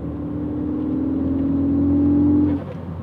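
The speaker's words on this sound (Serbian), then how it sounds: "Ima skoro pa isti onaj burble na početku kada mu daje, kada idete u obrtaje." A Ford Focus ST 250 Mk3 with its turbo petrol engine revs steadily, giving a loud, close droning hum that climbs slightly and then drops off as the throttle is released.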